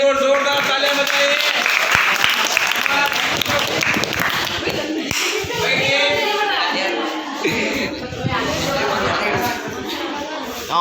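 Classroom applause for a student, a burst of clapping from pupils that stays busy for several seconds, mixed with children's chatter and a teacher's voice talking over it.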